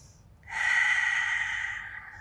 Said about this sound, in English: Two more breaths